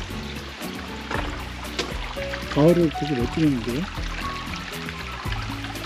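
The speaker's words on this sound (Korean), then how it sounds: "이야, 여긴 그래도 제법 졸졸 소리가 나네요." A mountain stream trickles steadily close by on a rocky autumn trail on Palyeongsan, a continuous babbling wash beneath someone talking.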